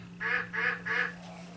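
Three evenly spaced, nasal quacks from ducks on the water, moderately close and clear over a steady low hum, followed by a brief quiet tail.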